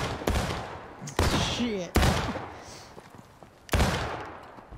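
Civil War musket volleys from the video game War of Rights crack out in four sharp, loud bursts with uneven gaps, each decaying into a rumbling echo while a voice speaks briefly.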